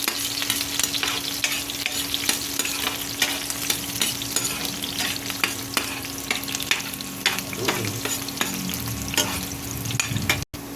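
Garlic, onion and ginger sauté in a hot pan, a steady close sizzle with frequent scraping stir strokes running throughout, no voices.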